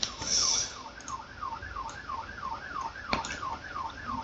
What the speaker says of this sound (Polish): Cały czas słyszę policję, że jeżdżą radiowozy sobie po mieście.